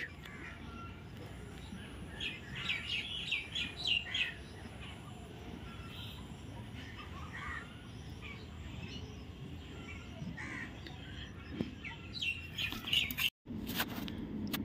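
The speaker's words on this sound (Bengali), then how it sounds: "ওই পাখি উঠছে, এই দিকেও উঠছে।" Birds chirp and call over a green field of vegetable plants on a bright morning, busiest early on, then scattered tweets against a steady outdoor hum.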